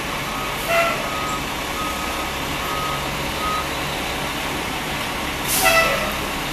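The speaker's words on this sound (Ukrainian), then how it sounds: "Дві пожежні машини, напевно, кота знімати" Two fire trucks arriving on a street, with idling truck engines rumbling under a repeated electronic reversing beep and a couple of short hissing air-brake bursts.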